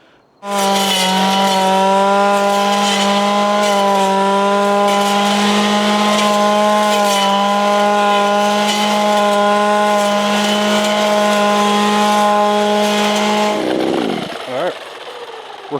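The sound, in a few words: VEVOR gas hedge trimmer running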